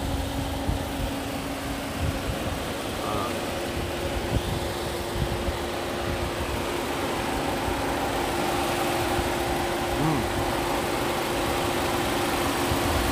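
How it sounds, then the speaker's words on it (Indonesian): A 2017 Toyota Vellfire Z MPV idles with a smooth, steady engine hum and a faint fan whir, heard close up for the whole stretch with no speech. "Mesin juga halus."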